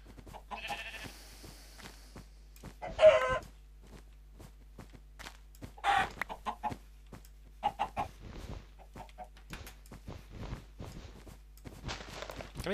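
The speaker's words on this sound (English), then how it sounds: "Come here, chicken." Video game chickens cluck in a few short, scattered bursts, some louder and close, over a constant patter of footsteps.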